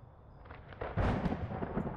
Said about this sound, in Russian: Ничего себе, под звуки молнии.